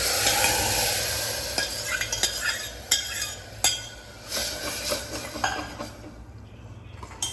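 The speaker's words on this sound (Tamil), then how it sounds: "பருப்பு உள்ள ஊற்றிடலாம்." Lentils poured into a pan of sautéed tomato and onion, with a steady sizzle and scattered stirring clinks and scrapes across the whole stretch, fairly close and with no talking.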